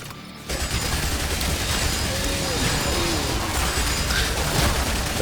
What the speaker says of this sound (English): I wish the turret shot a little faster.